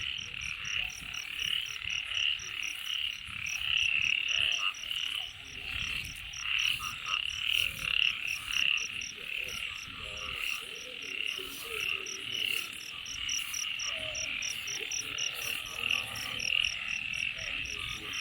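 Frogs croak at night in a dense, continuous chorus, with rapid pulsing calls layered over a steady high chirring, loud and close throughout.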